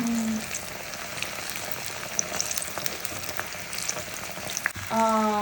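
Jackfruit fritters (chakka pori) fry in hot oil with a steady crackling sizzle and scattered pops, close and moderately loud, with brief clinks of utensils.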